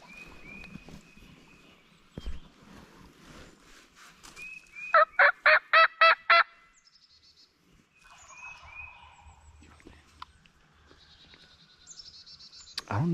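Wild turkeys in spring woods gobbling, with a loud rapid burst of gobbles in the middle and fainter, more distant gobbles and calls before and after, plus quiet rustling and soft whispered talk.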